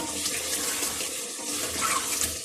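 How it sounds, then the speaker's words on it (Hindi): Water pours steadily into a cooking pot of browned potatoes and meat in a continuous splashing rush, close by, with no pauses over the short stretch. "अब मैं 2 कप पानी डालने लगी हूँ"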